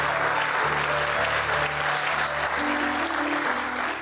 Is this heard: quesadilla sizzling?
no